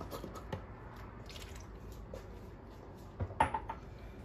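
About one and a half cups of milk are poured onto two packets of powdered whipped cream mix in a bowl, giving a faint, soft pour with light clinks and a brief splashy drip near the end.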